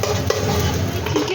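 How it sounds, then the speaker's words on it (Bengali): Beaten eggs being stirred continuously as they fry into small scrambled bits in a pan for egg chicken chowmein, a steady sizzle with scraping and stirring clatter throughout. "এবার এইগুলোকে অনবরত নাড়তে থাকবো যাতে কুচি কুচি করে ভাজা হয়ে যায়।"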